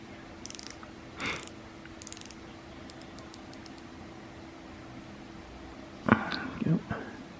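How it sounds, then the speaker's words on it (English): The rotating bezel on an Orient 70th Anniversary Retro Future Camera watch is turned, giving short bursts of fine ratcheting clicks separated by pauses, close and fairly quiet, with a louder rattle near the end. "Rotating bezel as well."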